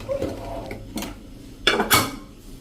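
A pressure cooker of dal tadka gets its metal lid set and locked on, giving a few brief clanks and scrapes, the loudest pair near the end, in an otherwise quiet kitchen.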